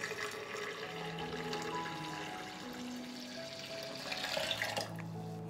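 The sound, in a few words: a litre of water poured into a blender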